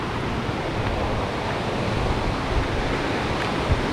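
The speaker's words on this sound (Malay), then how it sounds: "Sebelah sini ada air terjun sikit lah." A river tumbling over several rocky levels with a small waterfall at a jungle campsite in Lata Perahu, Kuala Kangsar, a steady broadband rush of water, close and continuous with no talk.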